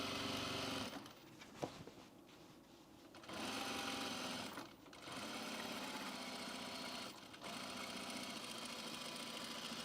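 A sewing machine flat-felling seams on men's pants, a quiet rapid mechanical whir running in several bursts of stitching separated by short pauses.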